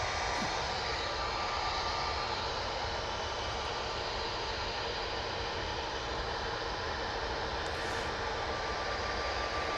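An airliner, a 787 series, departing Manchester Airport for Palma, a steady broad engine roar heard from a distance, constant and unbroken throughout.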